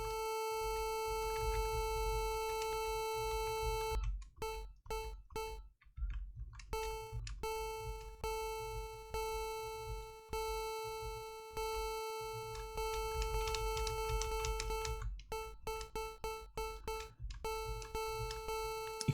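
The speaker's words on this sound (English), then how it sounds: "this obviously is a note which is played really short, or one which appears to kind of have like an echo associated with it" Game Boy sound channel tones with a volume envelope, a steady sustained chiptune pitch with harmonics broken by brief dropouts and rapid repeated short note blips near the end, no talk.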